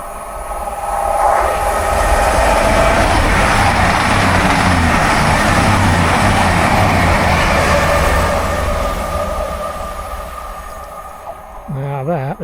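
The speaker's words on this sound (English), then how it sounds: "Here comes the train going south now." A southbound train passes through Belper, roaring loudly up close for several seconds with rattling carriages, then fading away, leaving brief voices at the very end.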